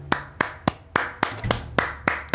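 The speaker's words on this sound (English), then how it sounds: "Clapping my hands." Hands clap in a medieval game's town scene: about eight crisp, evenly spaced claps in a steady rhythm, close and fairly loud with no talking.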